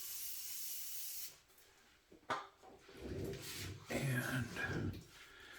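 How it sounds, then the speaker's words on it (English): A brief hiss of solvent sprayed onto a towel while cleaning a titanium and carbon fiber folding knife, followed by rubbing and handling noises close by. "I think I am going to put a little solvent on my towel and just wet it a little bit."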